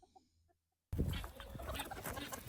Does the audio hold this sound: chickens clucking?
yes